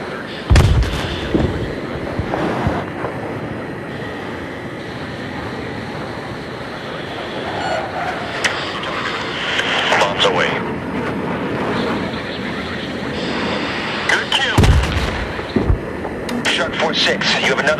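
Battlefield 3 jet aircraft combat over an airfield with a runway, main terminal and radar tower: continuous loud engine roar with sharp explosive bursts from bombs and gunfire, heavy blasts near the start and around fifteen seconds, radio chatter voices throughout.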